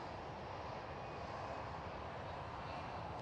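EasyJet Airbus A319 airliner landing on the Polderbaan runway at Amsterdam Schiphol, a faint, steady distant jet roar with no distinct peaks.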